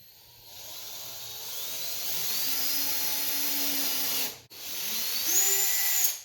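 A drill bores a countersink into a guitar body, a close, rising high whir with a brief stop midway before a second short burst of drilling.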